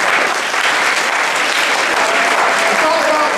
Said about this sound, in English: Y'all clap for me because it was real hard